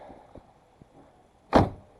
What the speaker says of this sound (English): So, you gotta first open the hood